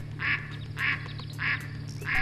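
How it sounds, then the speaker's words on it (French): Mallard ducks quacking outdoors, four evenly spaced quacks over a low steady background hum, moderately close. "les canards colverts ont également rejoint les foulques"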